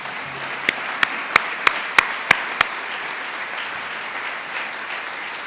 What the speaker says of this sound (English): So if you're going to applaud, this would be the time.